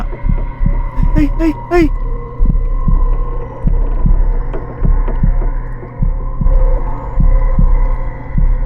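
A steady thudding heartbeat from the horror game Demonologist repeats over a constant low hum, with a brief high chirping burst early on.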